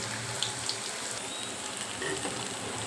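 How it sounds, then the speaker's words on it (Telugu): Bitter gourd sizzling in a pan with chili powder, a constant close frying hiss with faint stirring scrapes and no voices. "కాకరకాయ వేగిన చూడండి ఫ్రెండ్స్"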